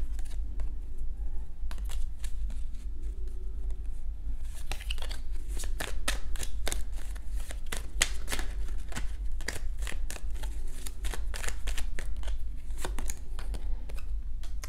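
Tarot cards are shuffled in a steady stream of crisp riffles and soft slaps, close and fairly loud over a low constant hum, with no voices.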